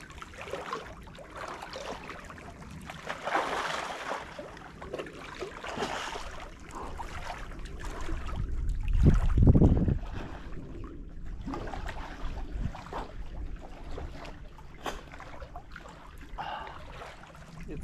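A person swims in a chilly lake in Sweden in late September, with soft intermittent water splashes and trickles up close, and a heavier rumbling swell of movement midway before settling back to gentle lapping.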